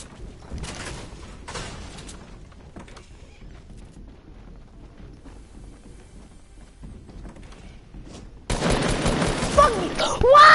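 Bursts of video game gunfire erupt near the end, loud and dense, after a long stretch of quiet background with scattered thumps and faint voices.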